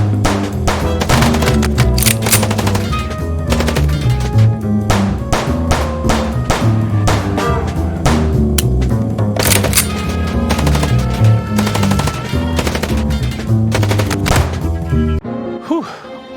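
Rapid gunfire rattles through a shootout in the video game Chicken Police, with dense bursts of loud, punchy shots and heavy thunks continuing almost nonstop before cutting off near the end, set against a steady game soundscape.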